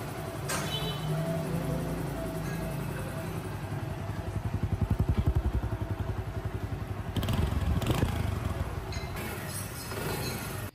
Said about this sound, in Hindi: उसके बाद बाइक को स्टार्ट करना है